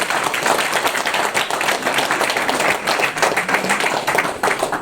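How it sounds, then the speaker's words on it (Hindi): Audience at a formal gathering applauding dignitaries, dense continuous clapping from many hands, loud and steady throughout without talk. "तालियां बजाएं।"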